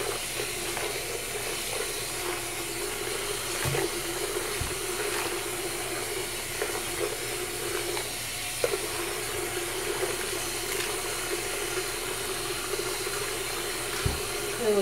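Water runs steadily while hair is shampooed, a continuous close hiss and splash that holds an even level throughout with a few faint knocks.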